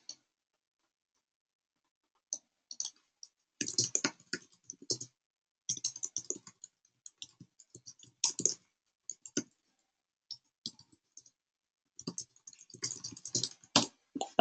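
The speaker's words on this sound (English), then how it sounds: "That was slightly less embarrassing typing." Keys on a computer keyboard are typed in irregular bursts of quick clicks, close and fairly quiet, with silent pauses between runs and no talking.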